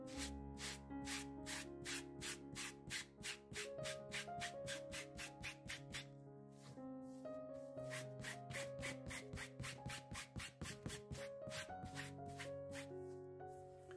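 Quick, rhythmic rasping strokes of 80-grit sandpaper scrubbing fabric, steady and close, over background music.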